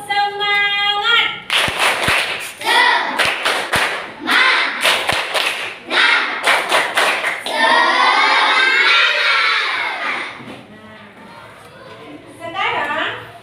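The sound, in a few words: group of children clapping a spirit clap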